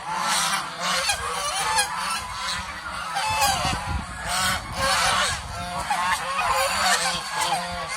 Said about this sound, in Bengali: এটা হলো আমার হাঁসের কামারটা,